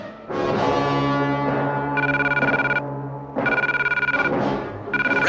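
A red telephone in a missile silo rings loud and close, repeated bursts of a harsh electronic ring over a low sustained tone, with no talking.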